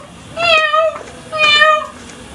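A person's voice imitates a cat, giving two drawn-out meows in a row, loud and close, with a short gap between them.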